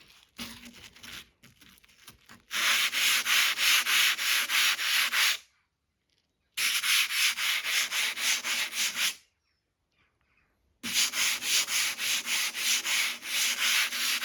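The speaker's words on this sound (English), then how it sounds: "Soft flexible pad, 220 grit." Rust on a Range Rover 3.6 V8 tailgate is sanded by hand with a 220-grit soft flexible pad: three loud, close bursts of rhythmic rasping strokes, separated by brief silent pauses.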